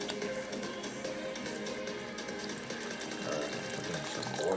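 A blender blends ginger and pineapple together with a loud, steady whirring churn that holds throughout and rises slightly near the end.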